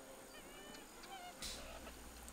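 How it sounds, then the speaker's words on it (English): A large flock of American white pelicans calling faintly at a distance, with scattered low honks and grunts before a louder rushing burst near the end. "A large flock of American white pelicans is an amazing sight."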